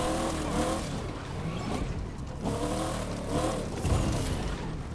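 Rough, droning engines of demolition derby cars in The Crew 2, revving and surging in repeated waves over a steady roar, with an occasional tire squeal.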